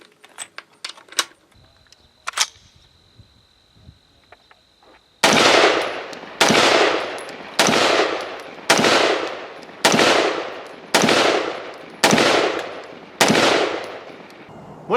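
Crusader Arms Templar AR-180 piston-driven rifle firing Fiocchi ammunition: eight loud, evenly spaced shots at roughly one-second intervals, each with a sharp crack and a decaying echo, preceded by faint handling clicks and metallic taps.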